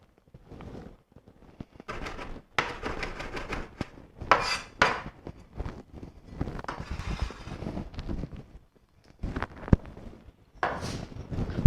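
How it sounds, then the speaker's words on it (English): Fresh ginger is rubbed across a grater in short bursts of dry, rasping strokes, close and fairly quiet, with brief pauses between. "I'm going to grate some fresh ginger"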